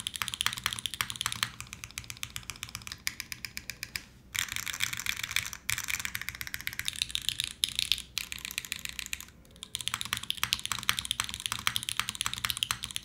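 Steady, fast typing on a Code Geass themed mechanical keyboard with Alphas keycaps, a dense run of close, crisp clacks with a few brief pauses, and no one talking.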